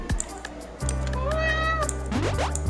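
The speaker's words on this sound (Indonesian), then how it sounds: "Ini cuma ada kucing." A cat in the video game A Space for the Unbound gives a clear, close meow, set against steady game background music, followed by a short rising chirp-like note near the end.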